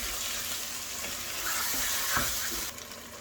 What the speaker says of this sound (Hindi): थोड़ा सा आलू भी इसमें भुन गए